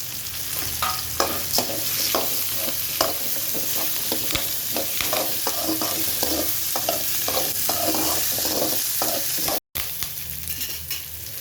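Onion, coconut, curry leaves, black pepper and cumin sautéing in a pan for mutton curry, a steady sizzle broken by rhythmic spoon scrapes and taps against the metal throughout.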